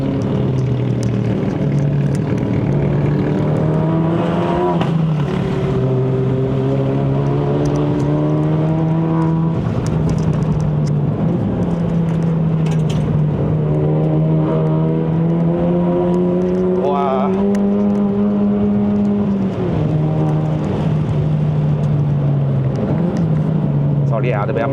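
A Suzuki Swift Sport ZC33S with a six-speed manual climbs the winding Genting road in Malaysia. Its engine drones steadily up close, the pitch rising and dropping with throttle and gear changes across the run.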